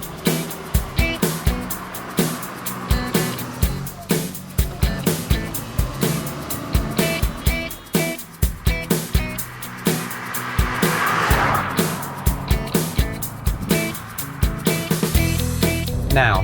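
A 2014 Toyota Yaris Hybrid drives along a country road, its steady road and tyre noise running continuously beneath someone talking throughout.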